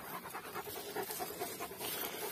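A large Kangal dog pants rapidly and steadily up close, its quick rhythmic breaths continuing without a break.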